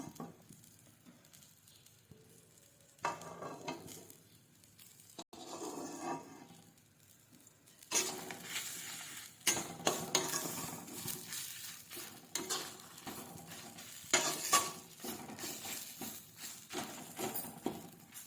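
Raisins roasting in a pan while being stirred, heard as soft scraping and light sizzling that starts faint and then grows busier and louder, close up with no talk.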